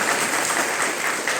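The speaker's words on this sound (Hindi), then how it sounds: "एक बार मनीष सर के लिए तालियां" An audience applauds at the closing of a five-day teacher induction training, a dense, even wash of clapping from many hands at moderate volume throughout, with no distinct individual claps.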